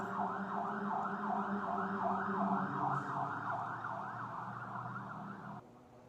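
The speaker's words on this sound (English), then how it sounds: "Duluth fire truck going across the lift bridge over on the Park Point side." A Duluth fire truck crosses the lift bridge on the Park Point side with its siren wailing in a fast, rhythmic yelp. The siren sounds at moderate distance and fades slightly before cutting off near the end.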